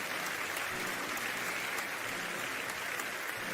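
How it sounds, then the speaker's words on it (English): A dense, steady round of applause from a crowd at a radio show, a continuous wash of many hands clapping at moderate distance with no voices over it. "That should get a round of applause right there."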